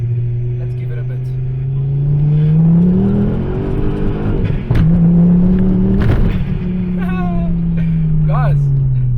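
A 2011 Ford Focus ST 225 accelerating hard on a road, its engine note climbing steadily and loud from inside the car, with a brief shift dip midway; a person talks over the engine.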